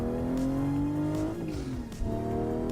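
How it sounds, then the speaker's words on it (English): A steady droning diesel car engine in a racing video game on a sim rig revs and holds at high pitch, with a brief dip as it shifts, tires faintly squealing; no voices. "Diesel sounds like a tractor."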